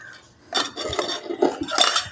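Mustard seeds go into hot oil in a pan as a tempering for buttermilk curry, giving a brief run of light clinks and scraping metallic rattles close by.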